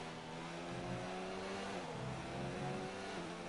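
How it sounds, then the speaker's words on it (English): In a racing video game during a Brazil Grand Prix event, a race car engine runs at full throttle, giving a steady, sustained roar with a slightly shifting pitch and no break in the sound. "He's just really hammering the throttle there, trying to get away."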